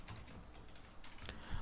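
Computer keyboard typing code during a machine learning coding session, a short run of quiet key taps with a slightly heavier stroke near the end.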